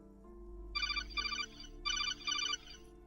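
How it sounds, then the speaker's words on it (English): A phone's text message alert tone plays twice, a bright electronic chirping melody in two short bursts, loud and close, with no talk over it. "That's my text message tone."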